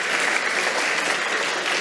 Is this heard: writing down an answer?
no